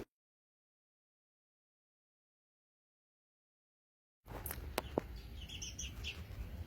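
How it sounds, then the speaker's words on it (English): House sparrows chirp at a backyard bird feeder; near-silence gives way to a steady outdoor bed of soft, scattered chirps and a few sharper calls near the end. "We've got our house sparrows visiting."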